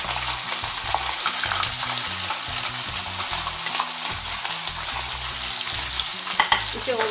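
Paneer cubes frying in hot oil give a loud, steady crackling sizzle that runs unbroken throughout, with low tonal notes underneath.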